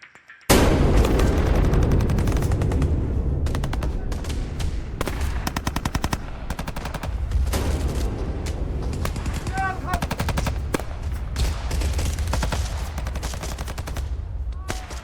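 Automatic gunfire rips out in long, loud, close bursts, the rapid shots running almost without a break for the full stretch, with booming impacts mixed in.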